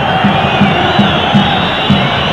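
Ponte Preta football supporters in a stadium crowd during a 2001 Paulistão match against São Paulo, a continuous loud roar with rhythmic chanting pulses repeating about every half second.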